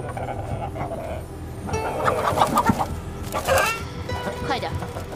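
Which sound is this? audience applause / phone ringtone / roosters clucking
roosters clucking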